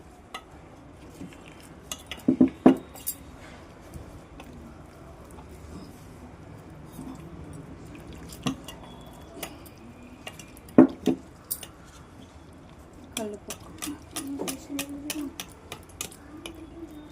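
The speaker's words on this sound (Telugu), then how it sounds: "బ్యాటర్ కోసము కొంచెము మైదా పిండి, కొంచెం కార్న్ఫ్లోర్ కలుపుకొని వాటర్ వేసుకొని కలుపుకోవాలండి" Batter of maida flour and cornflour being stirred with water in a bowl, with soft wet squishing and a few sharp clinks of a spoon against the dish, heard close and alone.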